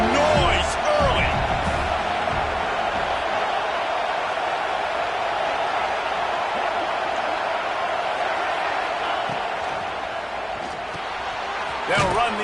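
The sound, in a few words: stadium crowd cheering at a football game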